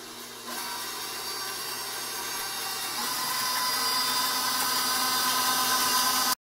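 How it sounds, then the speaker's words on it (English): Electric stand mixer whipping sugar and butter for pear frangipane tartlets, a continuous close motor whir that steps up in speed early and keeps building slightly. "In the mixer, let's add the sugar and butter and let's get it whipped nice and light and fluffy"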